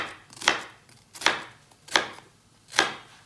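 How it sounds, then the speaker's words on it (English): A knife chops through a white onion on a cutting board in four crisp, evenly spaced strikes, close and clear with no talking. "And then you just chop it and hold it in place."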